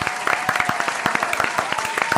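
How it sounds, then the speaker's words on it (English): An audience claps at a school Teachers' Day celebration, with distinct individual hand claps standing out in a lively, fairly close burst of applause. "let us all give a big round of applause for the award-winning public speaker"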